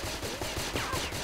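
Rapid bursts of automatic gunfire crackle in a shooting video game, several quick overlapping shots across a brief moment with no talking.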